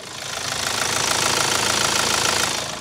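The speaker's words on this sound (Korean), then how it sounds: "먼저 엔진 사운드부터 한번 들려드리도록 하겠습니다" The diesel engine of a 2020 Kia Sorento with 50,000 km idles steadily, a continuous rough rumble with a fast, even clatter, close and fairly loud throughout.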